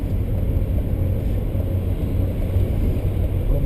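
A low, steady engine hum drones on evenly throughout, like a car running smoothly while driving, with no voices.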